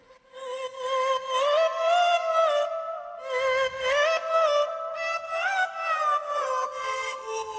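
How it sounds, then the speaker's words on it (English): A remix lead built from layered high and mid pitched vocal samples, with a vocal chopped into bright sung phrases that glide and stack in harmony, playing loud and continuous with no speech. "with just manipulating vocal samples, I think it's a cool effect to do"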